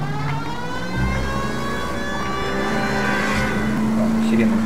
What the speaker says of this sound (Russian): Сирена задолбала.